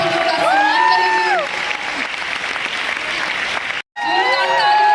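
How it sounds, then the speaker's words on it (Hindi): A concert crowd in Mumbai claps loudly and steadily to welcome guests, with a voice speaking over the applause and a brief dropout near the end. "जोरदार तालियों के साथ ये सभी हमारे गेस्ट हैं, इतने दूर से आपके लिए आए हैं।"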